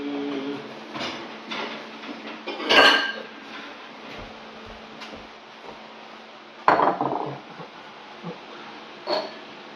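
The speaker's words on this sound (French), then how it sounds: "On va prendre un récipient pour mélanger les deux." Diced vegetables being mixed in a bowl, with several clattering knocks and scrapes of utensils and dishware at irregular intervals, two louder clanks among softer handling noises, with no talk.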